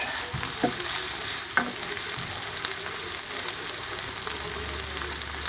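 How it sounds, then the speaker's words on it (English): Shredded beef frying and sizzling in a pan for Mexican shredded beef while a utensil stirs it steadily, with a few sharper scrapes and knocks over a continuous close hiss. "stir constantly so parts of the beef don't brown too much."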